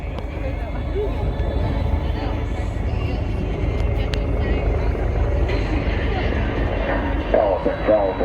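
A CH-53E Super Stallion heavy-lift helicopter at a military airshow gives off a steady, loud rotor and turbine roar that holds throughout, with an announcer talking over the noise.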